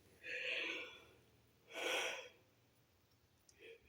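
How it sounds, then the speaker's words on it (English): A person yawning during a wait before a medical procedure: two long, breathy exhalations with a brief softer breath at the end, fairly close and quiet, no talk. "sorry, yawning away again."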